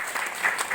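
Audience clapping in a brief, lively burst, many hands at once, close and moderately loud.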